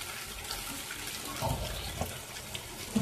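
Water poured into a pot of chicken curry, a low, quiet splashing rush of liquid that swells briefly midway, ending with a faint clink.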